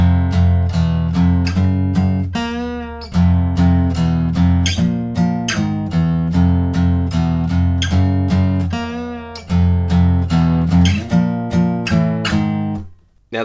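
Electric guitar playing the post-chorus riff of a song, with steady strummed chords and muted chugs in a driving rhythm, loud and close with no talking.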